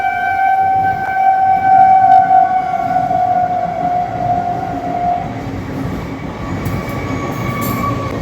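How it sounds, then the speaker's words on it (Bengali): A train arriving at close range, loud and sustained, with a long steady horn or whistle tone over heavy rumbling wheels on rails that continues after the tone fades. "তোমাদের ট্রেন আসছে"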